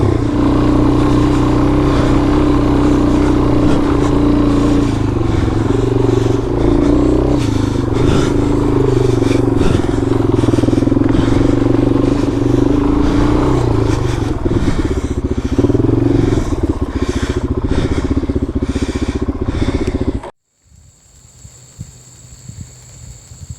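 A KTM 300 and a DRZ400 dirt bike ride a rough trail, engines droning loud and close with rattling and scraping over the terrain for about twenty seconds before cutting off to near silence.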